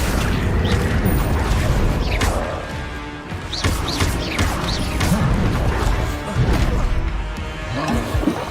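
The Accio spell in Hogwarts Legacy, heard as loud crashing and thudding impacts with whooshing magical swishes that keep coming over a dense, busy game soundscape.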